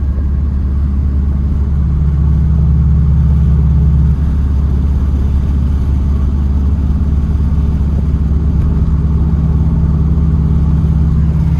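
Steady, even engine drone and road rumble from a Subaru STi with a cooling overhaul and cylinder 4 mod, cruising on flatter roads, heard from inside the car at a constant pace with no talking.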